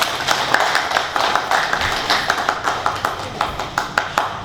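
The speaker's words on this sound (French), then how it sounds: "On peut applaudir pour cette entreprise." Applause at a community event for a Dangote project, with distinct hand claps in an uneven rhythm from a modest group close by, carrying on for several seconds with no talk over it.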